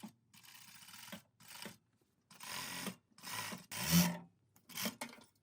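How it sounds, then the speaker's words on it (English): A serger overlocks the side seam of a homemade hoodie from sleeve opening to bottom hem, running in short whirring bursts of about a second each, separated by quiet pauses while the fabric is repositioned. "Now I'm serging from the sleeve open to the bottom hem."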